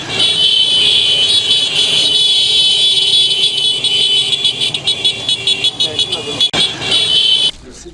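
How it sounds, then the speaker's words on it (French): Car and motorcycle horns honk in a dense, continuous concert as a group of young men on motorbikes welcomes a visitor at a village entrance, loud and sustained with engine noise and crowd voices underneath, cutting off abruptly near the end. "dans un concert de klaxons."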